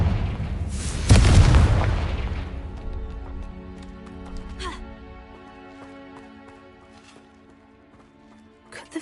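A fire-spell explosion in the Hogwarts Legacy video game, a sharp loud boom that decays into a long crackling rumble with scattered pops and clicks.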